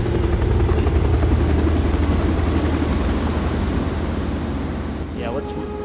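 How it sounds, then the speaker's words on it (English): A helicopter hovering overhead in the SimWorld Sports game at a New Orleans beach venue, a loud, continuous throbbing rotor drone under broad surf-like noise, with a faint whistle near the end. "We're hearing a helicopter hover over us here at the New Orleans"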